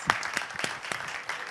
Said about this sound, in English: We have a live audience clapping.